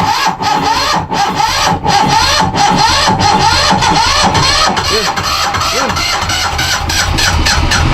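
The engine of a small boat runs loud and close with a rough, steady rhythmic chugging and rattling throughout, while people talk over it.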